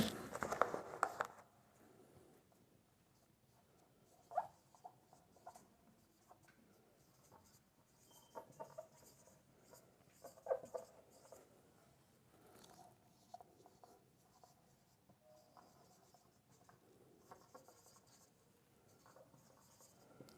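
A pen scratches out a three-dimensional geometry solution on paper, very quiet and intermittent, with soft strokes and small taps spread across a hushed room.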